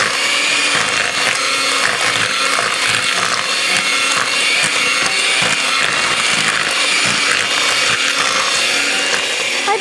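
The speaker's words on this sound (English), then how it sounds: "Mix butter and sugar with the electric mixer." An electric hand mixer beats butter and sugar for carrot cake or frosted carrot squares, running with a loud, steady whir throughout.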